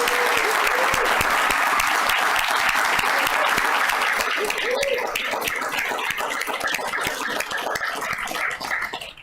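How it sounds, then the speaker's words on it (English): A large round of applause at a town council meeting honoring award nominees and winners, loud dense clapping that gradually thins into more distinct individual claps toward the end. "let's give them another round of applause."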